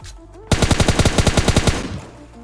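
An M416 assault rifle fires in a battle royale video game, a sharp burst of about a dozen rapid, loud shots in quick succession, then stops.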